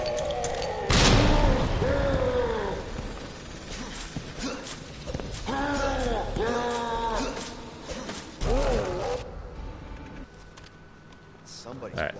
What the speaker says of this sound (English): Alright, throw a grenade.